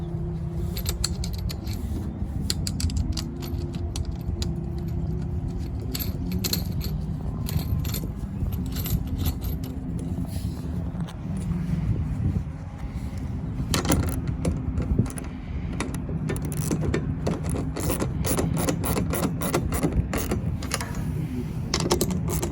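Nuts being tightened on a Gobi roof rack fitted to a 5th-gen Toyota 4Runner, with 12 mm hardware, washers and Loctite: continuous close metallic clicking and jangling, denser toward the end, over a steady low background.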